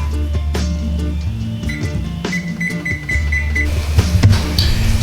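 A kitchen timer being set while bacon bakes at 500 degrees, with a short run of evenly spaced electronic beeps partway through, heard over busy kitchen clatter and background noise.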